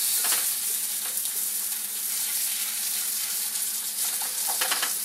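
Wild onions fry in a pan with a bright, steady crackling sizzle close by. Short bursts of spatter and stirring sit on top of the hiss, with no voices.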